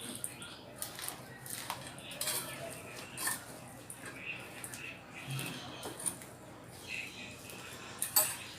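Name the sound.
stirring poha and masala slowly with a spoon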